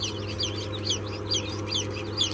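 Newly hatched chicks peep in a steady, overlapping chorus of high, rapid chirps. A constant low hum sits underneath, and no voices are heard.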